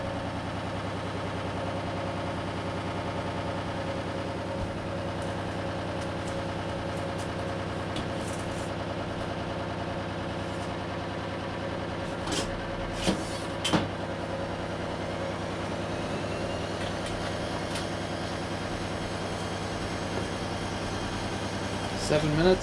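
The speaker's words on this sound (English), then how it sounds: "Pump sounds very loud because I drained it out." A Bosch WFK2801 washing machine, drained of water, runs its pump with a loud, steady low hum and drone for a long stretch, broken by a few faint clicks and knocks.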